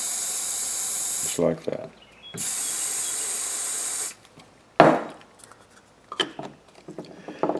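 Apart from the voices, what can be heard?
aerosol spray can spraying cleaner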